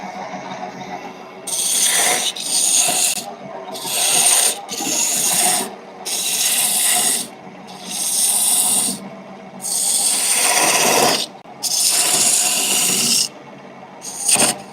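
A wood lathe spins a wooden bowl while a spindle tool cuts into it, producing loud, rasping scrape bursts about a second long. They repeat in a rough rhythm, separated by short pauses.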